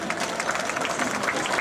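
An outdoor audience at a municipal band concert during a patronal festival in Manfredonia claps steadily, a brief dense burst of applause heard close and alone.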